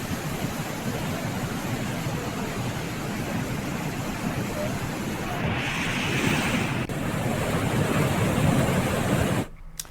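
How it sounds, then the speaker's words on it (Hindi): Swollen Ganga river rushing in spate at Gangotri during monsoon flooding, a loud, continuous broadband roar of churning water that swells slightly before cutting off abruptly near the end. "जलस्तर बढ़ने से गंगा उफान में बह रही है"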